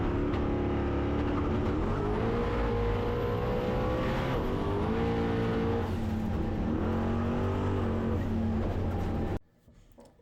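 Loud, steady engine roar from inside a small-tire drag racing car, pitch rising through several gear shifts before cutting abruptly to near silence at the end.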